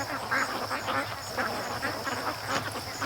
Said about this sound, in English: it's amazing how 600 ducks disappear out here real quick